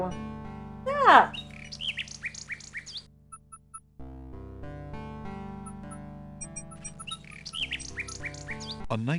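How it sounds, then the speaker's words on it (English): A nightingale sings in the King's Quest VI video game, bright chirping phrases over a sustained musical backing, with a break before the melody resumes. "A nightingale perches on a high branch of the tree. She sings the most beautiful song Alexander has ever heard."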